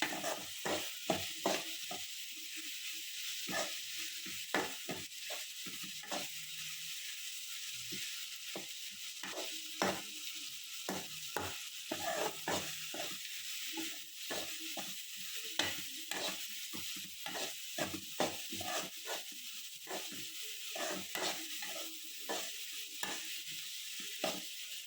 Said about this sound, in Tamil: இது வந்து தக்காளி சட்னி. நல்லா கிண்டி விட்டுக்கிட்டே இருக்கேன்.